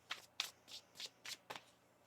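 Tarot cards are shuffled in six quick, crisp riffling bursts, close and fairly quiet, with brief pauses between.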